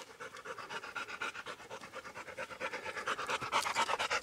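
A dog climbing a mountain trail pants steadily in quick, rhythmic breaths, close and growing slightly louder, with no talking.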